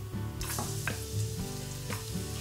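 Garlic fries in a pan of oil for a vegan seafood-style paella, a loud, close, continuous sizzle with a few sharp spatula scrapes.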